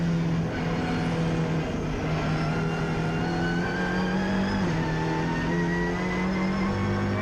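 BMW race car in a Britcar Trophy race at Oulton Park, its engine droning steadily and shifting pitch as it passes on track, heard alongside other car engine noise with no talk.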